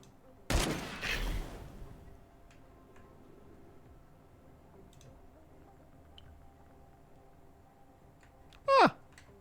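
Gunfire in the Encased video game as a shot hits a barrel: one sharp burst followed by a brief crackling rattle stands out against a quiet ambient background, with a short squeal near the end.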